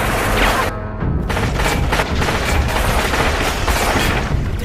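Dense, sustained gunfire and booming blasts in a Terminator future-war battle scene, loud and continuous with no pauses, a brief dropout in the highs early on.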